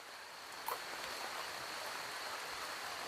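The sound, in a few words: rain falling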